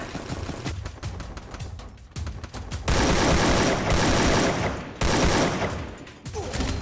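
Rapid automatic gunfire in the Free Fire video game, dense bursts of shots in quick succession with a few short pauses between volleys, loud and close with no talk over it.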